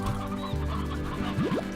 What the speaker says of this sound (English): we seem to have a free-range chicken farm going on over here